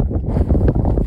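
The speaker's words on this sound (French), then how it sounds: "Oh, il y a du vent." Low, steady wind rumble buffets the microphone outdoors in snow, a continuous blustery roar with no voices.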